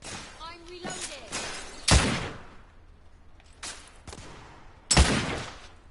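Gunshots in The Order: 1886 on PS4 Pro: three sharp, loud single blasts spaced a few seconds apart, with a voice talking between them.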